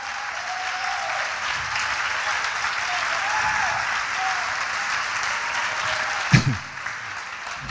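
A church congregation applauds steadily in a reverberant worship hall, a continuous wash of clapping that holds for several seconds before a brief thump and a quieter tail.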